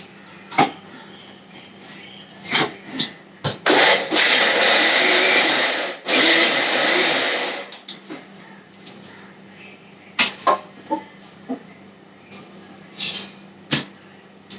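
A kitchen mixer grinder grinds ginger, garlic, shallots, curry leaves and coriander into a paste for fish curry, one loud sustained whirring burst of several seconds, framed by scattered clicks and knocks from handling the jar.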